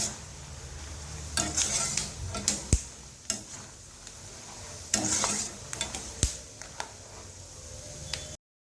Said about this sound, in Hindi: तो देखिए हमारे सारे शेंगदाने अच्छे से फ्राई होके तैयार हो गए हैं।